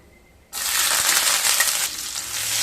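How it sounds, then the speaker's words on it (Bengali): Chopped garlic, about a dozen cloves, hits hot oil with black cumin and erupts into a loud, steady sizzle for Bengali masoor dal, easing slightly toward the end, with no talk. "রসুনটাকে হালকা ভেজে নেব"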